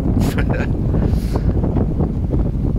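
Strong wind buffets the microphone aboard a boat motoring along the Intracoastal Waterway, a constant loud roar with gusting rumble throughout and a faint voice in the background.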